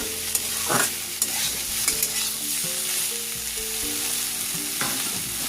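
Tomato frying with vegetables in a pan, a constant loud sizzle with regular scraping stirs and a few light spoon taps, no voices.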